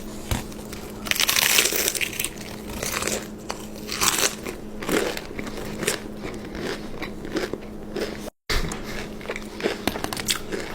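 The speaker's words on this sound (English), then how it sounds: "The crunch is insane. Listen to the crunch." Someone bites into crispy fast food up close, with loud, repeated crunches and crackles in irregular bursts, followed by chewing and brief pauses.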